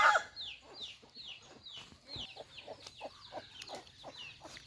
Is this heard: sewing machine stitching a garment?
no